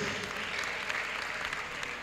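Audience clapping at a university inaugural lecture, a dense, steady patter of many hands, fairly faint and even throughout.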